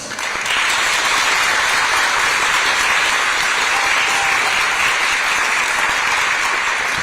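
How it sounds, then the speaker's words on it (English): Steady, dense audience applause fills the whole stretch at a street ceremony honoring the Tulip Queen and her court, a broad, loud wash of many hands clapping with no voices on top. "You should be applauded."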